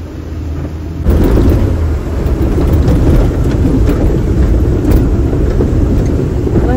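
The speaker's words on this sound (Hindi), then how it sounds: "बहुत बारिश हो रही है" Heavy rain pours down suddenly and steadily, a dense loud roar of drops after a brief quieter start.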